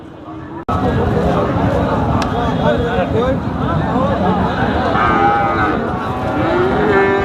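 Cattle at the Dhaperhat livestock market in Bogura give drawn-out moos among a dense hubbub of voices, close bellows rising over continuous crowd chatter throughout.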